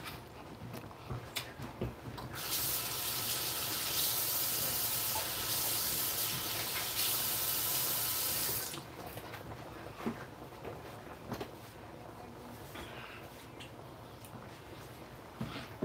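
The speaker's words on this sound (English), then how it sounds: "I'm gonna wash my hands." A sink tap runs during handwashing, giving a steady hiss of water that lasts about six seconds and then cuts off, leaving faint kitchen clatter.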